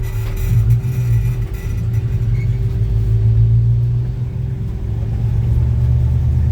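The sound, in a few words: 1966 Chevy C10 truck engine running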